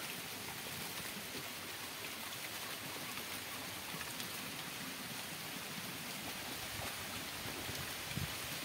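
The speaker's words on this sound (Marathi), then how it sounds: "बघा आता आपला पाऊस पडते बघा." Rain pours down in a dense, unbroken hiss for several seconds, loud and even, with no voices.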